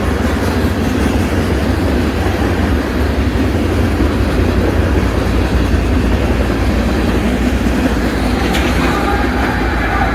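A freight train passes near Harpers Ferry, West Virginia, with a loud, close, continuous rumble and rattling of rolling cars throughout, with no talk over it.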